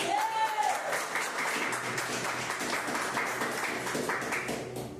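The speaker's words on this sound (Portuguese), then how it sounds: "Glória a Deus, as palmas do Senhor" A church congregation claps in praise during a Portuguese-language service, sustained applause of moderate loudness with a brief tonal sweep near the start and some voices mixed in.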